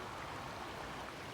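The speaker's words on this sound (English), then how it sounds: "In fact, this water, it comes from the falls above there where they're fixing that bridge" Fresh stream water flowing down from falls below a bridge under repair, heard at dusk beside a bicycle trail as a continuous, even rushing wash with no voices.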